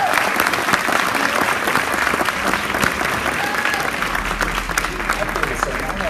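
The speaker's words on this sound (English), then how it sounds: "Let's give Eagle Tech a round of applause," Audience applause for a student team at a pitch competition, full, steady clapping from a sizeable crowd throughout, with a low hum creeping in near the end.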